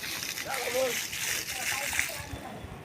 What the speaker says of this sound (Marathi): पाणी वगैरे मारती शुभांगी, झाडाला पाणी वगैरे मारती.